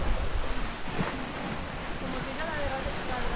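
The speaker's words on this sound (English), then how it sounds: "Got some good splashes on this, yeah." Rushing water splashes and churns around a Grand Canyon Rapids raft ride at PortAventura World, a loud, constant wash with wind buffeting the microphone and faint voices underneath.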